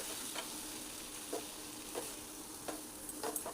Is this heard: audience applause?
no